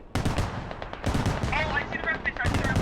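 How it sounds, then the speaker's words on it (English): Rapid, heavy blasts of mortar fire pound a position in a British-versus-Russian castle defense video game, with dense overlapping bursts sounding loud and continuous for about three seconds, plus brief whining tones midway. "Mortars, once again, pounding into it"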